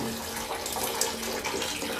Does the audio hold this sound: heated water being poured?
yes